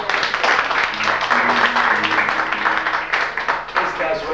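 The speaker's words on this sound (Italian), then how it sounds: "lo ricordo io questa sera e gli facciamo un applauso." An audience at a song evening applauds in memory of Armando Gino. The clapping is loud and dense, filling the few seconds from start to end, with voices and faint low tones underneath.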